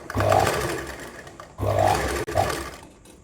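A pico sewing machine stitches zigzag along saree fabric in loud whirring bursts, two long runs and a short one separated by brief pauses, close by with no speech.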